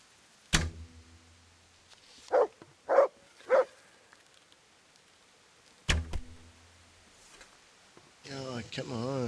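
Three short barks from a dog in Kingdom Come: Deliverance, set between two sharp bow-shot snaps, with a burst of rustling noise at the end.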